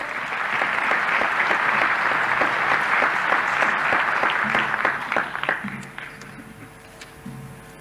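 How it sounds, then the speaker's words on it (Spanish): Audience applause at a Bolivian ceremony where President Evo Morales enacts a pension increase law for older adults: steady, dense clapping fills the room, then thins and fades toward the end as a few scattered claps linger. "Vamos a recibirlo con este fuerte voto de aplausos,"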